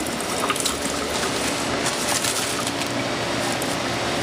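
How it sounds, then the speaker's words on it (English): Water running steadily over a circuit board being rinsed with soap, a continuous close splashing gush with no talk. "I'll just take a little bit of soap and water and then just rinse it off"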